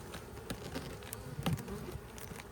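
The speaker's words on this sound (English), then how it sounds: "We look also to see if we are not smashing any bees." Honeybees buzz faintly around an open hive during a colony inspection, soft intermittent drones of passing bees with a few brief louder swells, nearby but quiet, no voices.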